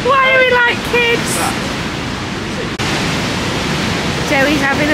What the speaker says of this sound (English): We've got a bit of a thing about the sound of water